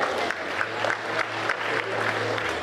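An audience at a conference panel discussion applauds steadily, dense clapping continuing throughout without pause or voices standing out.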